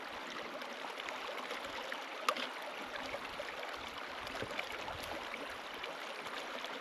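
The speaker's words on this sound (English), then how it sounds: "It's a good steady flow on Dogon Creek." A creek in the Australian Alps rushes and trickles steadily in a constant broadband hiss, heard close by, with a faint knock partway through.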